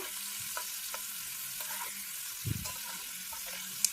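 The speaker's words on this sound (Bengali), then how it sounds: "এবার তেলের মধ্যে আমি চর্বিগুলো দিয়ে দেব দিয়ে চর্বিটাও একটু নাড়াচাড়া করব" Beef fat frying in hot oil while being stirred, a soft low sizzle with scattered scraping and clinking spoon strokes against the pan, fairly quiet and close, no voices.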